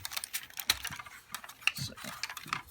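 Hard plastic parts of a large custom Scorponok triple-changer Transformer toy snap and click into position, a series of small sharp clicks and taps close to the listener, faint and irregular, with a little low handling noise between them.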